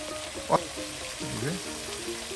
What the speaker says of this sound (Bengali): আর এখন মশলা দিয়ে আপনার রান্না করানো হবে এবং কষানো হবে